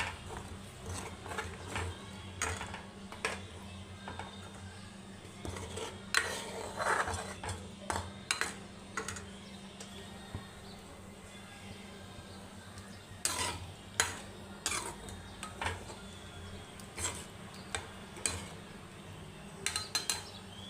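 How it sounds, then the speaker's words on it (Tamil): A spoon scrapes and clanks against a pan of dried fish thokku in irregular strokes, with short bursts of stirring over a faint background sizzle. "இது அப்படியே கிளறி விடணும்."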